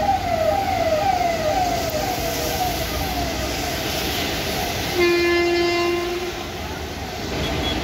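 A train rolls past near a bridge with a continuous rumble of wheels and wagons, loud and close, and a sustained horn blast sounds partway through.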